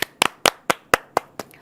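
Seven sharp, evenly spaced hand claps ring out in a studio during a Korean TV talk show celebrating the KOSPI index passing 5,000, each clap crisp and close with no talk over them.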